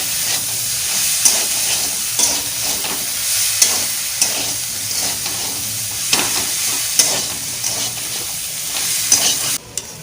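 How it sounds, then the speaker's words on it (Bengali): Fig curry sautéed with turmeric and salt, a loud continuous frying sizzle close by with repeated spatula scrapes and taps against the pan, no voices. "হলুদ, লবণ একটু কষিয়ে নিই।"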